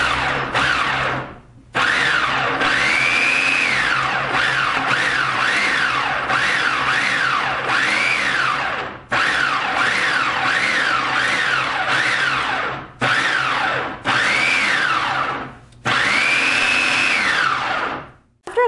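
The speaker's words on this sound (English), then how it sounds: "And we're gonna pulse the salsa." Black & Decker 8 cup food processor pulsing salsa in a series of loud whirring bursts, each a few seconds long, separated by short pauses, close up and with no talk.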